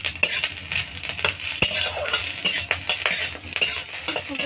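Bay leaves and green chillies frying in hot oil with a five-spice tempering, a steady crackling sizzle broken by repeated metal spoon scrapes and clinks against the pan, close and fairly loud.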